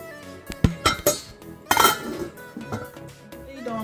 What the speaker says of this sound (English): so put the lid on, fully closed